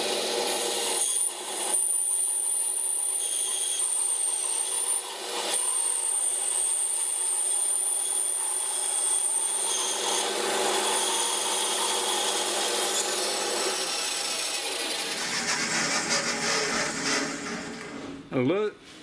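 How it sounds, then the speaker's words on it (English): A piece of myrtle burl wood is cut into roughly 8mm slabs for a knife handle, with a steady, loud, continuous sawing rasp that carries on for most of the stretch before easing off near the end. "I'll cut some stuff for the handle, a nice bit of myrtle burl. I'll cut that about 8mm thick"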